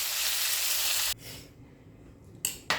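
Beef browns in a hot pan after a few drops of vinegar, giving a loud, steady sizzle for about a second, then a quieter crackle with two short bursts of hiss near the end.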